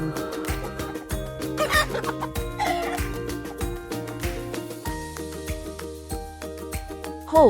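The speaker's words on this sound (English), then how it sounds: "Chicken." A hen clucking repeatedly over steady background music, short clucks in an uneven rhythm throughout.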